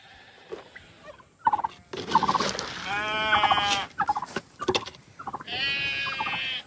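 Sheep bleat repeatedly at feeding time on a farm, several animals calling close by in long wavering cries, with rustling and footsteps around them.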